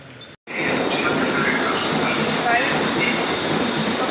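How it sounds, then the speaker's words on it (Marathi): A train arriving at a station rumbles steadily and loudly after a brief silent gap, its wheels and carriages grinding on with faint squeals over the drone. "बस ट्रेन आली, ट्रेन."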